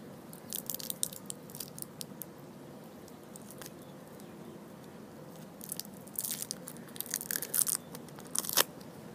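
Teeth biting and crunching into juicy watermelon, a series of close, wet crunches and chewing bursts that cluster more densely toward the end, with no talking.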